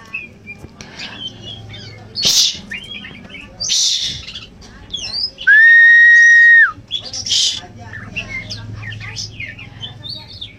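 An oriental magpie-robin sings loudly in a series of bright, varied whistles and chirps, with a strong sustained whistled phrase in the middle, heard close over faint background noise.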